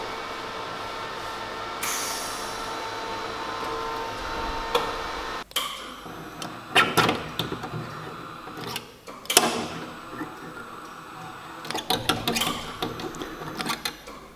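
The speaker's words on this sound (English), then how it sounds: "Welder seems to be playing out." Welder laying patchwork onto a Mazda MX5 Miata body in an erratic manner, short crackling bursts stopping and starting, some sharp pops, close up with no talk.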